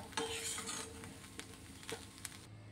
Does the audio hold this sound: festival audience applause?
no